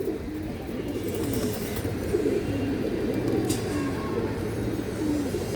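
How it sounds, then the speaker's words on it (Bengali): A khaki female pigeon coos in soft, repeated low rolling phrases, close by, over a steady background murmur of other birds in the loft. "খুবই সুন্দর একটা খাকি মাদি কবুতর এই দেখেন"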